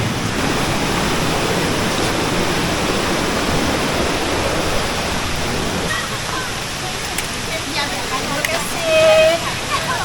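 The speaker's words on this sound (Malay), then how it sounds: "Dah sampai air terjun Jeriau." Jeriau waterfall roars in a steady broadband wash during rain, close and loud, with voices talking faintly over the rushing water.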